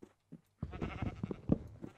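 A sheep in modded Minecraft gives a short, close bleat with a wavering, nasal quality, preceded by a couple of faint clicks.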